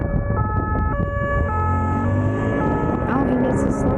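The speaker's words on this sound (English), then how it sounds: "Oh, the ambulance." An ambulance siren wails steadily and loudly over road traffic rumble, its tone shifting in a repeating pattern throughout, while a voice speaks briefly over it.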